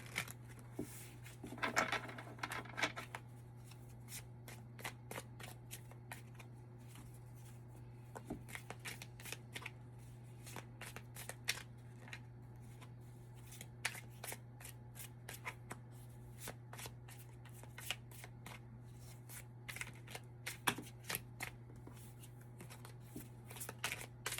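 Tarot cards being shuffled by hand, a soft flurry of riffling and slapping card edges that repeats in irregular bursts over a faint steady hum, close and quiet.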